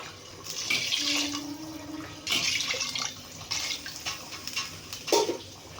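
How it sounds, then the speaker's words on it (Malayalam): Water poured into a pressure cooker holding chicken biryani in a home kitchen, a steady broadband rush with several bursts and pauses, fairly close and alone. "അപ്പോൾ നമ്മൾ ആവശ്യത്തിനുള്ള വെള്ളം ചേർത്തുകൊണ്ടിരിക്കുന്നുണ്ട്."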